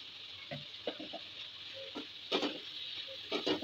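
Spices, dried chilli powder, coriander powder and salt stirred in a pan with a faint background sizzle, a spoon scraping and clicking in short irregular bursts, fairly quiet.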